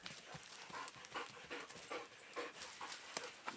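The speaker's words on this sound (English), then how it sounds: "Dog. Good dog. Oh, he's a good boy." A dog panting rapidly and steadily close to the microphone outdoors in the woods, quick rhythmic breaths at a soft, even level with no talk.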